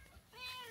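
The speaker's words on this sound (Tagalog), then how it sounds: "Tingnan naman yung pusa." A cat gives a short, faint meow, a single rising cry against quiet outdoor background.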